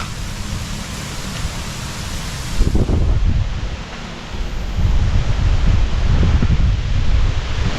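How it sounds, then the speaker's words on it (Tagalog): Strong wind roars and buffets the microphone steadily, with heavy low rumbling gusts surging louder partway through; no voices are heard. "Lakas ng hangin."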